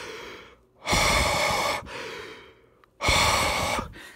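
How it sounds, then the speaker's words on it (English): Two long, forceful exhalations blown close onto a surface to moisten it during a refurbishing job, each a loud breathy rush lasting about a second, separated by quiet pauses. "And you're gonna try and get it moist with your breath."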